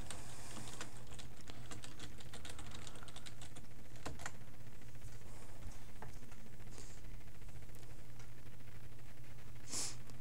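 Someone types a search on a computer keyboard, a run of quick, light key clicks with short pauses, close and fairly quiet against a faint steady hum.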